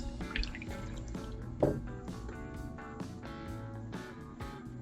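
Water with Dawn dish soap is poured and swirled in a container, giving soft close drips, splashes and liquid trickles, with one sharper plop near the middle.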